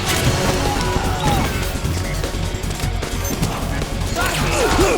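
Loud, chaotic battle in Metal Gear Solid 4: Guns of the Patriots, with dense gunfire, crashing impacts and heavy explosions filling the whole stretch, and shouting voices under the din.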